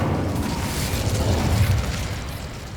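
The Incendio fire spell cast in Hogwarts Legacy, a loud close whooshing burst of flame with a low booming roar that holds steady for a few seconds, no talk.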